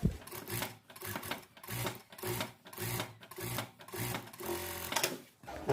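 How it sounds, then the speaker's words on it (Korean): A sewing machine stitches a seam on a raglan-sleeve coat in short bursts, its rapid mechanical whirring starting and stopping repeatedly at close range. "이 시접 밑으로 보내서 여기에 스티치 한 번입니다"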